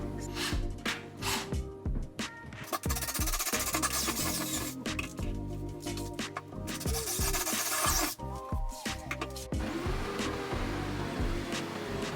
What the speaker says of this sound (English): So drill, then cut with the saw.